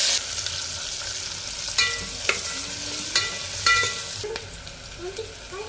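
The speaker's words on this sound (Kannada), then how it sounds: "ಈರುಳ್ಳಿ ಕೂಡ ಸೇರಿಸ್ಕೊಂಡು ಚೆನ್ನಾಗಿ ಫ್ರೈ ಮಾಡ್ಕೊಳ್ಳೋಣ" Onions and chilies fry in a pan with a steady close sizzle, broken by several distinct spatula scrapes and knocks against the pan as they are stirred.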